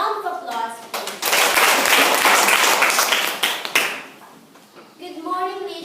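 Audience applause for a speaker introduced at a grade 9 school debate: loud, close clapping swells after a voice, holds for a few seconds, then fades as speech resumes.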